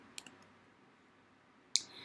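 Mouse clicks while working in Photoshop: two faint, quick clicks near the start, then a sharper single click near the end, alone with no talking.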